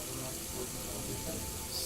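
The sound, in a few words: sink tap water running, video game Deus Ex Mankind Divided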